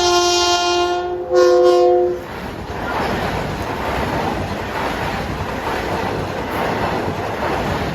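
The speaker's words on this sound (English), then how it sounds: "Trains don't mess around on the Ronkonkoma service of the electrified Long Island Railroad" An electrified Long Island Rail Road train on the Ronkonkoma line sounds its horn in two chords, then a fast, loud, steady rush of wheels and wind follows as it sweeps by close to the track.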